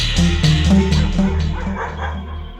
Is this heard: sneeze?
no